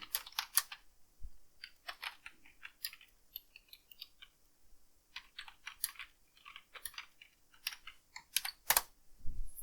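Fingers tap out bursts of keystrokes on a computer keyboard, with clusters of quick clicks separated by short pauses and a few heavier key strikes, close and without talk.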